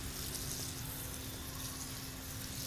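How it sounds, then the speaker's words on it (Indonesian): Water pours steadily over potted aglaonema plants, a continuous, even hiss of liquid soaking the soil from start to finish with no voices. "Nih kita siram-siram jenuh dulu guys, supaya gunema kita ini segar-segar ya."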